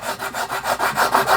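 Flat sharpening stones scrubbed back and forth across an automatic transmission valve body and separator plate to flatten them, a near, steady rasping rub repeating in about eight even strokes.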